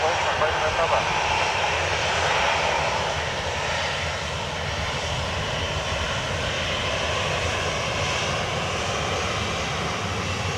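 A jet airliner takes off from runway 10 right at Dublin Airport, a loud, sustained engine roar that swells early and stays strong, with radio voices audible underneath.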